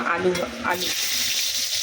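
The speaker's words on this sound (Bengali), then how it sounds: "আলুগুলোকে ভেজে নিচ্ছি আলাদা করে।" Potatoes frying in oil in a wok, a loud steady sizzle with stirring scrapes early on, then a continuous hissing fry.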